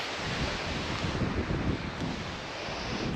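Strong wind blows outdoors across a garden of pepper plants, a loud continuous roar and buffeting rumble against the microphone with gusting surges, no voices.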